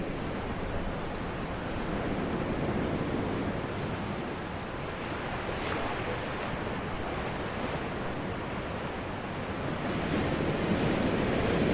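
Ocean waves rendered as 3D spatial audio wash in a continuous broadband roar of surf, steady and fairly loud throughout with a slight swell near the end, with no voices.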